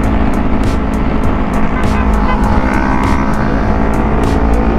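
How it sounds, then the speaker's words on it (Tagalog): Continuous engine drone from a ride on a CFmoto NK400 motorcycle, with a second NK400 following behind on the road, a steady close hum overlaid by rhythmic wind buffeting. "Yan, may motor sa likod natin."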